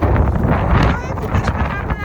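Strong outdoor wind buffets the microphone in steady low rumbling gusts, loud and close, with a voice exclaiming over it.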